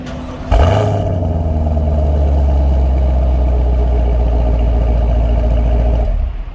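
A 2021 Chevrolet Camaro 1SS V8 with quad exhaust tips fires up with a sharp bark, then holds a deep, loud rumbling idle close by before cutting off near the end.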